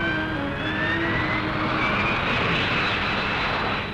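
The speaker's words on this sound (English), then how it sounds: "The Harrier, the world's first operational vertical takeoff fighter." A Harrier vertical takeoff jet fighter flies at the 1968 Farnborough air show, giving a loud, continuous engine roar with a slowly shifting whine throughout and no voices.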